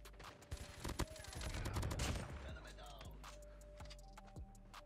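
Rapid automatic gunfire from a Peacekeeper rifle with a diamond camo gunsmith build in Call of Duty Mobile, a dense burst of fast shots that rises around the middle and then trails off into scattered single cracks.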